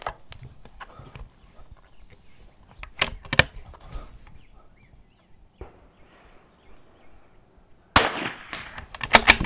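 Sharp .22 rimfire rifle shots crack out at an outdoor NRL22 range with steel targets, a few distinct reports spaced several seconds apart, with a louder, denser burst of noise near the end.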